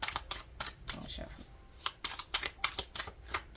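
Tarot cards are shuffled by hand in a quick series of crisp riffling snaps and flutters, faint and close, coming in uneven bursts.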